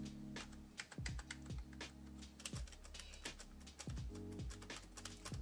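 Fingers type on a Lenovo ThinkPlus Preferred Pro keyboard, a quick irregular run of soft clacks and thumps close up, steady throughout and quiet overall, with no voice.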